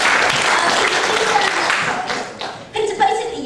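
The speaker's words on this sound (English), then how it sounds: "Give Peter a big clap." An audience claps together in steady applause for a volunteer, loud at first and tapering off after about two seconds into scattered claps and some light laughter.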